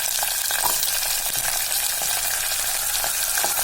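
Chopped potato frying with onion in hot oil for Marathi masale bhat, a loud continuous sizzle close up with occasional stirring clicks and no talking.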